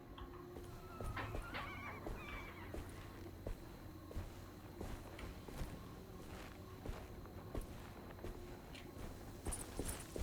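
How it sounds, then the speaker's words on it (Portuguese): A small puppy whimpers faintly in the Alone in the Dark video game. Soft, thin whines come in short bursts over a busy background of game ambience and footstep-like thuds. "Que barulhinho é esse? Parece um cachorrinho."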